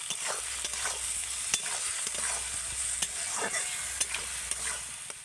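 Chopped tomatoes frying in oil with ginger-garlic paste for an egg biryani, giving a steady close sizzle under repeated sharp scrapes and taps of a spatula stirring the pan, with no voices.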